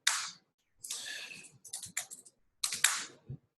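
Computer keys are typed in short bursts of quick, crisp clicks, close and fairly quiet, with brief pauses between runs during a remote online meeting.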